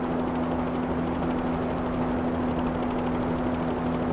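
A Bell 47 helicopter in Microsoft Flight Simulator drones loud and steady, its rotor and engine holding a constant hum with a strong low tone and no talk.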